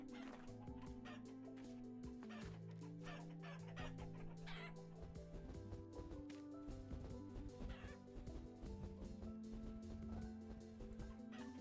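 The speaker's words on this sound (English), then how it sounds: "Why did like 30 chickens pass me right there?" A flock of about thirty chickens in the video game Vintage Story, clucking repeatedly in overlapping bursts over a steady musical background, fairly close and continuous.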